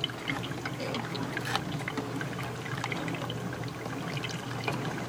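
Hot chocolate trickles and drips steadily as it fills a coffee maker's carafe, a continuous close liquid pouring sound with scattered small splashes and no talking.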